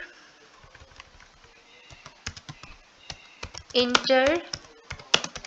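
Keys clatter steadily as C++ code is typed on a computer keyboard, with irregular clicks of varying loudness close by and a brief spoken phrase interrupting near the end.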